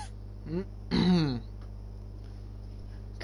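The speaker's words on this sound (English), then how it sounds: "Cough, cough, wheeze." A video game character from Corpse Party coughs once in a short, fairly close, harsh burst with a throat-clearing quality, set over a steady low hum with a brief vocal sound just before.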